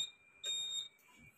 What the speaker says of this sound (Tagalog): May alarm yan.